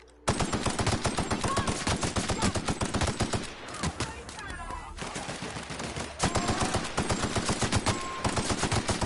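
Sustained machine gun fire in a video game, rapid evenly spaced shots that stay loud and close, with a short lull in the middle before the bursts resume, alongside faint game sounds.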